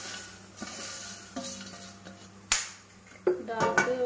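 A spoon stirring and tossing fried poha namkeen in a pan, soft scraping and light clinks with a few sharper taps, quiet and close.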